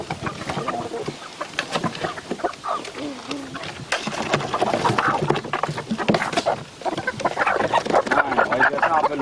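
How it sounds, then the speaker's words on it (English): Chickens clucking and calling on a farm in the Bahamas, a busy, steady chorus of birds close by with people talking among them. "Let's feed more of the chickens."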